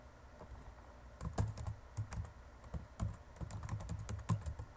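Someone types on a computer keyboard to set up a Twitter account, with quick, irregular bursts of close key clicks, alone and fairly quiet.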